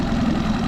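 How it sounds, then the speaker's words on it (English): Cheap outboard motor idling steadily after a carburetor air mixture screw adjustment, a loud, close, even engine drone with no talk. "it's idling so much smoother now with the air mixture screw adjusted"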